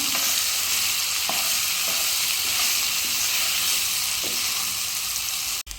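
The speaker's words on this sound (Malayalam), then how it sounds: "ഇനി നമുക്ക് വേവിച്ച് വെച്ച കടച്ചക്ക ഇട്ട് കൊടുക്കാം. നല്ലോണം ഇളക്കി യോജിപ്പിക്കാം." Cooked breadfruit being stirred in a hot frying pan, a steady close sizzle with faint scraping strokes of the spatula recurring every second or so, ending in a brief clatter.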